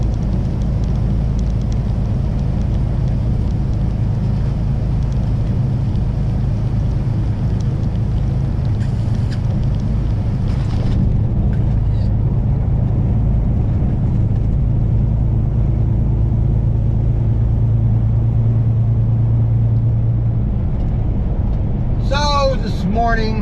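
Flatbed truck cruising up highway I-75, a loud continuous low rumble of engine and road noise inside the cab, with wind noise and a voice talking over it.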